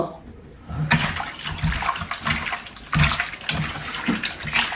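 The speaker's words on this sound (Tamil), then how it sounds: "மஞ்சள் போட்டு கழுவ போகிறேன் உப்பும் மஞ்சளும் போட்டு விளையாட்டி கழுவ போகிறேன்" Fish intestines are washed with salt and turmeric in a bowl of water, giving close, steady sloshing and splashing with repeated hand-scrubbing bursts throughout.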